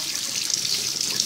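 Hot water pours steadily from a tap onto a waterproof Sony Xperia M4 Aqua phone, a constant bright hiss and splash with no pauses and no voices.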